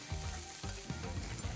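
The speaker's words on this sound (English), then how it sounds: "Saute the onions till they are transparent." Sliced onions with chopped garlic and green chili sauté in sesame oil, giving a continuous close sizzle and crackle with soft stirring scrapes.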